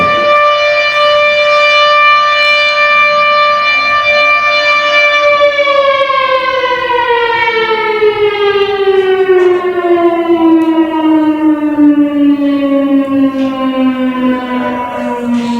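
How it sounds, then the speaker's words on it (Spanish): Several civil defense sirens at a museum sound together in one loud, sustained wail. The steady rising tone holds, then slowly winds down in pitch over the closing seconds, with no voices. "No es una sirena, sino muchas que deberían sonar de un modo coral"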